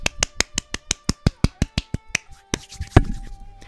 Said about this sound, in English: so I will actually give you a legitimate clap